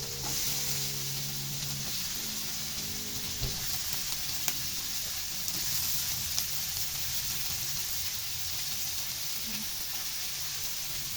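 Sliced bitter gourd (ampalaya) frying in a pan, a continuous moderate sizzle with occasional stirring knocks and clatter from the utensil.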